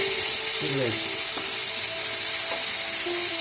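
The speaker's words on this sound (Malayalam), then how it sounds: "ഇതിൻ്റെ മീൻ വറക്കാൻ വെച്ചേക്കണത് കൂടി ഒന്ന് ശ്രദ്ധിക്കണം കേട്ടോ" Pearl spot fish fries in a pan, giving a steady, close crackling sizzle throughout, with a faint voice and a couple of brief tonal sounds over it.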